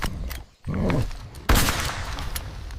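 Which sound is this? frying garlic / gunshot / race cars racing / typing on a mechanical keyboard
gunshot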